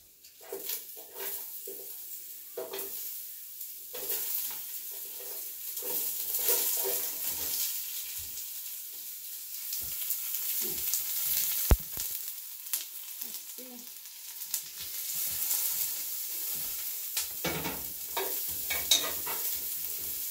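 Garlic and onion fry in a pan for green beans with mushrooms, a soft sizzle underlying repeated stirring scrapes and clacks of a utensil, fairly quiet and close, with no talking.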